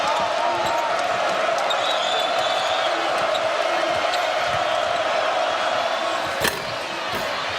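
Loud, steady roar of a packed basketball arena crowd at a college game between Iowa State and Kansas, a sustained wash of cheering with a sharp thud near the end, commentators talking over it.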